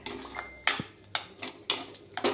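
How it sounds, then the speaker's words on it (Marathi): A metal spoon scrapes and clinks against the pan while stirring milk into potatoes for potato halwa, sharp knocks repeating roughly every half second, close and clear. "दूध घातल्यानंतर त्याला चमच्याने परतवायचं आहे. आपल्याला दूध सुद्धा या बटाट्यांमध्ये सोसेपर्यंत ढवळायचं आहे."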